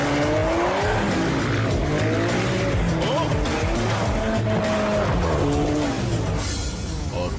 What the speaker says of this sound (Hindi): ये मेरी मोटरसाइकिल है।